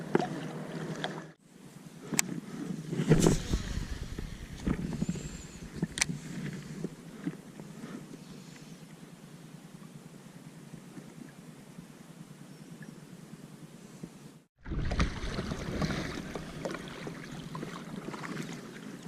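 Steady engine drone of motorboats passing on a lake during a fishing tournament, heard from a kayak, with wind noise, a continuous low rumble broken by a brief dropout near the end.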